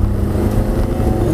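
A car fitted with a 406 engine running Mikas 7.1 firmware accelerates hard on a road, its steady, loud low engine roar filling the whole short stretch without pause.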